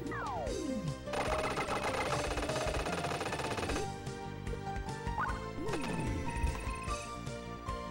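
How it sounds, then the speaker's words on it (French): Retro shooter Choujin Heiki Zeroigar on PC-FX fires sustained streams of rapid shots, with sweeping electronic tones and crashing hits layered over constant game music. "les tirs, ils sont incroyables"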